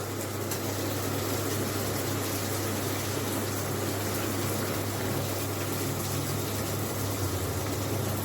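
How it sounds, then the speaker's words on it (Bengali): Salted water in a pot rolls at a boil as cauliflower leaves go in, a steady close rushing, bubbling roar that never lets up. "এদিকে জলটাও ফুটতে শুরু করেছে।"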